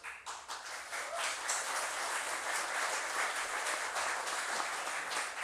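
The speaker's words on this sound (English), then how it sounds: "Need a louder cheer" Audience at a foundation day awards ceremony applauding and cheering as award recipients are escorted to the dais, a dense, steady wash of clapping that swells quickly and holds loud throughout.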